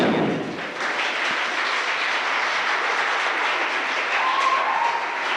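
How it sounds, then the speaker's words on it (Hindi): An audience at a Hindi comic and patriotic poetry gathering applauds in a steady, broad wash of clapping that runs throughout, with a brief thump at the start and no speech. "एक बार पीछे वाले बेटियों के लिए तालियां"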